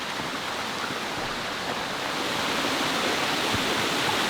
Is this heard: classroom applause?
no